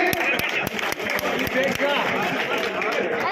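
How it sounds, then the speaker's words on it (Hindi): Loud, sustained applause fills the room from a crowd at a BJP candidate's election office event, dense steady clapping mixed with crowd noise throughout. "मैं आपके मध्य जोरदार तालियां पुरी साहब के लिए"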